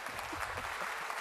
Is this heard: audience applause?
yes